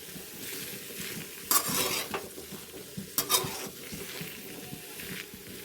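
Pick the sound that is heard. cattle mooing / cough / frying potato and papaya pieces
frying potato and papaya pieces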